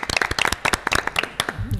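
A small group of people at a Dodge and Ram dealership in Martinique clapping, sharp, close, irregular individual hand claps rather than a dense crowd roar, tapering off after under two seconds.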